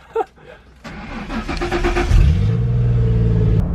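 A car engine with a suspected blown head gasket cranks and catches, then rises into a steady, loud idle and rev with a low rumble, recorded close by after a brief click.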